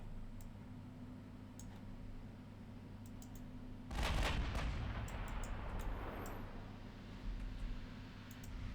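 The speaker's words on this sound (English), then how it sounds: "Keep firing at that enemy battle cruiser, please." A heavy naval gun salvo from battle cruisers and warships in Ultimate Admiral Dreadnoughts booms once loudly over a steady engine hum, its rumbling echo slowly fading as faint clicks tick in the background.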